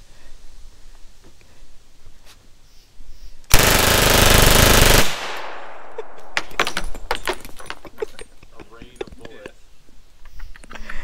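A PPSh-41 submachine gun rips off one loud, sustained automatic burst of about a second and a half, followed by scattered clicks, handling clatter and a few sharp knocks as the weapon settles.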